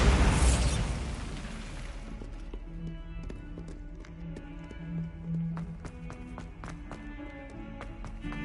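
A loud, broad blast from the Bombarda exploding spell in Hogwarts Legacy opens the moment and fades over about two seconds, followed by scattered light taps and clicks over a low game hum.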